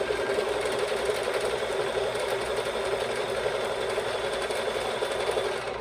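A Bernina sewing machine runs steadily, stitching binding onto a quilt with a continuous fast whirring hum at close range, no pauses and no voices.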